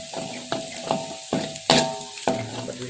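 Minced garlic sautéing in a hot pan, a steady sizzle broken by a series of sharp spatula scrapes and clanks as it is stirred, close and fairly loud with no talking.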